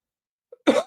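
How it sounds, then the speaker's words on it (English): A single harsh, nasty cough from a person with a lingering illness, preceded by a faint short throat sound, close and alone with no talk. "that cough's pretty nasty"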